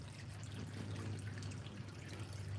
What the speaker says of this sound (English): Sounds like we are right next to the water bubbling